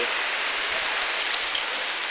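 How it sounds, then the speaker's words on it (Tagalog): Heavy typhoon rain from Typhoon Falcon pours down in Bauan, Batangas, in a steady, dense hiss, close and constant throughout, with no voices. "Ito ho, malakas po ulan dito."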